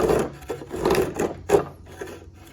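A quirk plane cuts a deep groove in wood with several rhythmic rasping strokes, close and fairly loud, and no voices.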